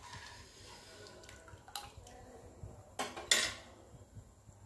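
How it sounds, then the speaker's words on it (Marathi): A spoon stirs Maharashtrian buttermilk besan pitla in a pot, giving a few faint metallic clinks and scrapes against quiet kitchen background. "आता याला शिजवून घेऊया असं चमच्याने हलवत."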